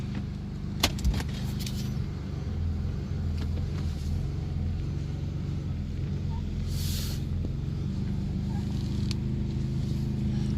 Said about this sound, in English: Alright, so I'm gonna go for a little test drive